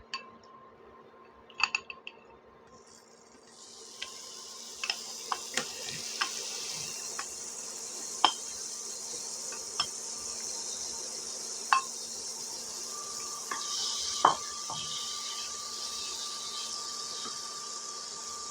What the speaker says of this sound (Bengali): এখন আমি শুকনা প্যানে সামান্য পরিমাণ তেল দিয়ে হালকা করে ভেজে নেব সিমগুলো।